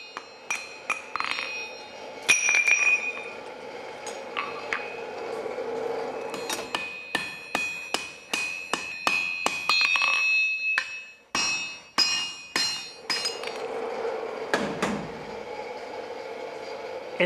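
A blacksmith at a forge hammering two hot iron pieces in turn to fit them for joining, making a tree-felling tool. Sharp metallic hammer strikes ring out in irregular bursts, close and loud, with ringing anvil tones.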